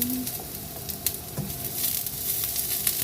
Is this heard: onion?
yes